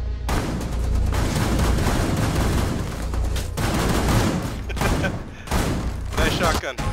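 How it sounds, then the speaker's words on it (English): Shotgun fire in the video game Rainbow Six Siege, with repeated loud blasts through a busy, dense game mix, while voices talk over it. "Nice shotgun."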